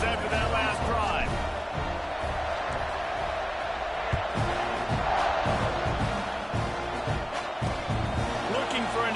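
A stadium crowd roars continuously in College Football 26 during a kickoff, a dense rumbling wash of cheering with thumps and shouts while a commentator talks over it.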